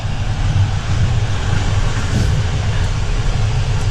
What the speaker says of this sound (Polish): Jedziemy, witamy w naszym pociągu.